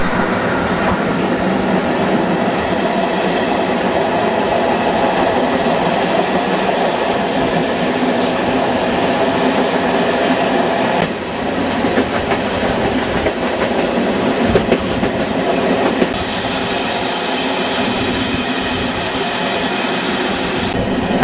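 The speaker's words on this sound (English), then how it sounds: "At this point the two trains are running side by side" Two trains running side by side on a Tatra trip, with loud, steady rolling rumble and clatter of rail cars throughout, wheels squealing and a sustained high-pitched whine joining near the end.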